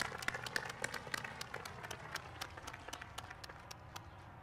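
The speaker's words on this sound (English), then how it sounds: "Give him a round of applause." A crowd claps for an attendee at an outdoor Memorial Day ceremony, steady scattered clapping heard from a moderate distance, fairly faint and continuing evenly for several seconds.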